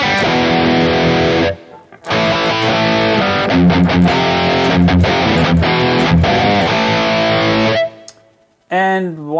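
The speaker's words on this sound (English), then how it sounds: "we have my main distortion tones, which are a little bit more mid-focused." Loud distorted electric guitar chords ringing through a Kemper profiling amp with a mid-focused high-gain preset, with a brief pause, choppy muted stabs, then a bending sustained note at the end.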